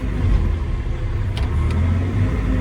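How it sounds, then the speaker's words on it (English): A CASE excavator's diesel engine labors and bogs down under hydraulic load, a steady, heavy low rumble held close by, with no voices. "it's like you're just really bogging down that engine"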